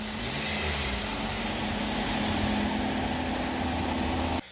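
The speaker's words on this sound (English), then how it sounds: "Now it's time to start it up, make sure we don't have any leaks on the oil filter and on the drain plug." A 2019 Nissan Altima idles steadily after an engine oil service, a close, even hum with a constant low drone that holds throughout and cuts off abruptly at the end.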